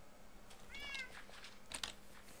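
A cat, an ocelot in the video game Minecraft, gives a short faint meow, then a second brief mew, over a soft steady background hum.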